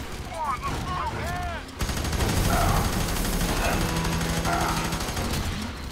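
Rapid bursts of FEAR 3 co-op gunfire rattle continuously at close range, overlapping with busy background effects and occasional voices.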